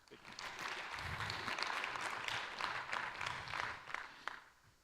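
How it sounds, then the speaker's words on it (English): Conference audience applauding after a talk, a steady patter of many hands clapping at moderate volume for several seconds, thinning out toward the end with a few last claps. "let's give another round of applause"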